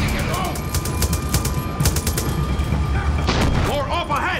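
Gunfire in the Far Cry 6 video game: rapid bursts of automatic weapon fire with booming impacts, loud and close, crackling in quick succession throughout.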